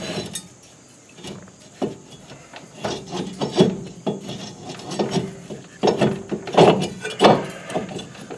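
A big screwdriver prying back a brake pad, a series of irregular scraping, creaking and clinking metal sounds up close, building in strength, with no talking.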